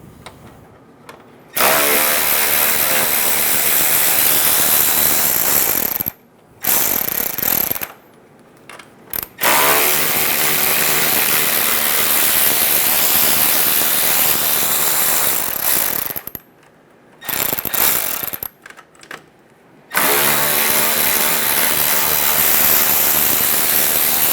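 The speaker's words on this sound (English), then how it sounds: "Using a 10mm socket, we're going to remove the 4 bolts on the bottom of the grille." A power tool with a 10mm socket removing the lower grille bolts on a 2014-2018 Chevrolet Silverado 1500, loud ratcheting whirs in several long bursts separated by short silences.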